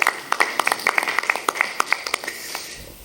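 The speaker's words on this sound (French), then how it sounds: "On peut les applaudir très fort." Scattered applause at an event launching artistic residencies at the Thiès cultural centre, a small audience clapping with distinct, separated claps over a thin ongoing tone, thinning out and fading near the end.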